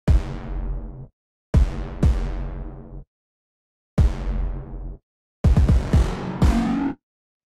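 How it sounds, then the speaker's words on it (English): Layered kick drum sample struck six times at uneven intervals, each hit a punchy low thump with a short ringing tail, the last two brighter and sharper, loud and isolated with silence between. "What I have here is the kick, which sounds like this."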